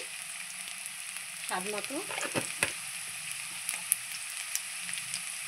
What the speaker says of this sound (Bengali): বন্ধুরা, আলুটা আমি একটু নাড়চাড় করে নিলাম